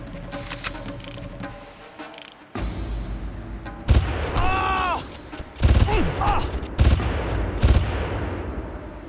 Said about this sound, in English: they heard gunshots